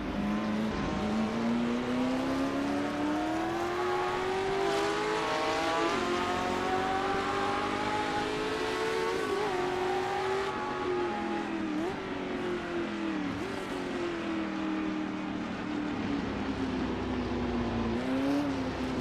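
Historic sportscar racing in Assetto Corsa, a close engine whining up and down through gear changes as the car laps at Riverside, with the drone of other cars including a Ferrari passing, loud and continuous, no talking.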